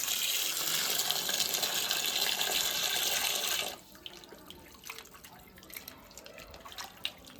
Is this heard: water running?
yes